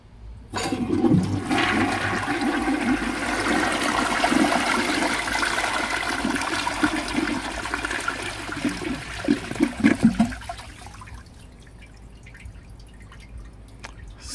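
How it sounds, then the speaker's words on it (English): A rare 1957 Dresden blue Universal Rundle toilet flushes, a loud steady rushing of water for about ten seconds, then a quieter trickle and refill with dripping as the bowl settles. "And this will be the final flush."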